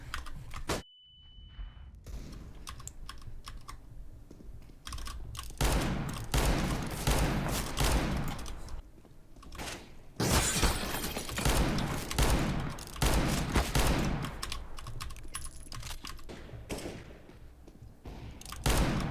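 Counter-Strike gunfire from the R8 revolver, several bursts of sharp in-game shots and volleys with clicks and thuds between them, loud and close, no talking over them.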